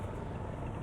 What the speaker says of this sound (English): I start hearing all these helicopters overhead of me